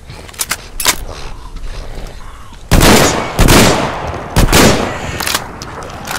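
A revolver shotgun fires in Metro Exodus, several loud blasts with long noisy tails, the heaviest two close together, alongside some lighter shots and clicks nearby.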